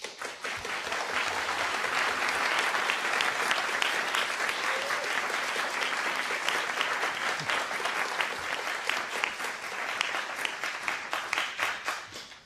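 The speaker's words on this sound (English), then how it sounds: "The applause speaks for itself" Large audience at a university law school inaugural lecture applauding steadily, a dense, sustained wash of many hands clapping that holds strong throughout before tapering slightly at the end.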